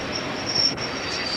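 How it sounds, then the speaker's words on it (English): At Stafford station a train rolls toward platform 1, a steady broadband rumble with a thin high wheel squeal drifting in and out, heard alone without voices. "The train now approaching platform 1 is the 118 from Carlisle"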